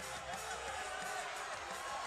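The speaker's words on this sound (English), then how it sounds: "Gael is telling the crowd to cheer him on" A crowd at a live fight event cheering, a steady wash of roaring voices and whoops, dense and continuous, with a commentator's voice faintly in the mix.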